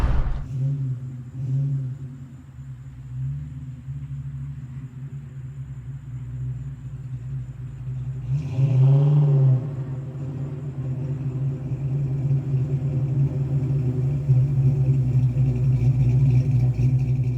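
A classic Ford Mustang muscle car rumbles steadily from inside while driving, its low engine drone swelling briefly in a brief rev midway, then holding a strong, continuous growl.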